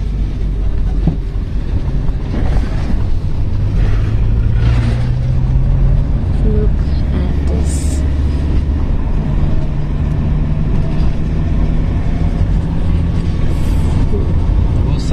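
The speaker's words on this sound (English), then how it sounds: "we are in a car that has chains attached to its wheel to avoid slippage" A car fitted with snow chains on its wheels drives along a slippery snowy mountain road in Gulmarg, Kashmir, giving a loud, steady, unbroken rumble of engine and road noise from inside the vehicle.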